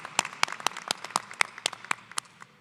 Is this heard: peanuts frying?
no